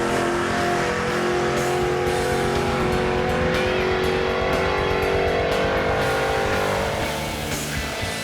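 A 1970 Ford Mustang roars off the line on a drag strip, its engine loud and sustained at full throttle for the whole run, with the note shifting slightly as it pulls away.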